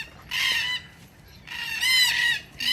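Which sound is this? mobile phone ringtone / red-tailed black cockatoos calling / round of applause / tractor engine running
red-tailed black cockatoos calling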